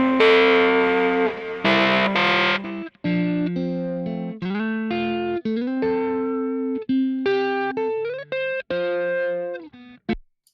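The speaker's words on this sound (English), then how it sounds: "Now the nasty guitar is on the right." Heavily distorted electric guitar reamped through a Kemper Profiler, played as a series of chugging chords and short riffs with abrupt stops and slides, loud and close with no talking.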